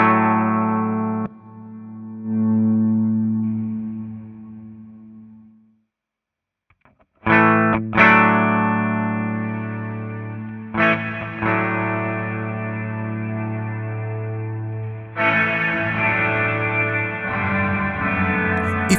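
Electric guitar running through an AMT F1 preamp into an effect pedal in series mode, sustained chords and notes with a processed, chorus-like and slightly distorted tone, a brief silence midway, then new chords ringing out.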